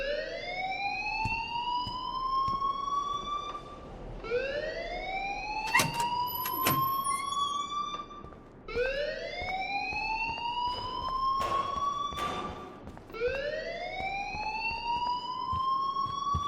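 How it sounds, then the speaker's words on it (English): A school fire alarm in Life is Strange blares in repeated rising electronic whoops, four long sweeping cycles at steady loud level, with faint clanks and background noise underneath and no talk. "please turn off that alarm since that's your job"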